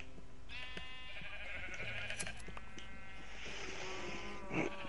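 Sheep bleating in Minecraft on PS4, a series of wavering game bleats that overlap and follow one another over a constant background hum.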